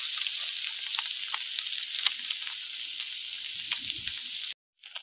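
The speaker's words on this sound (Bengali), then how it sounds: "মাছগুলো ভাজা হয়ে গেছে" Mourala fish frying in hot oil give a loud, steady, bright sizzle with faint crackles that runs unbroken for about four and a half seconds, then cuts off abruptly to near silence.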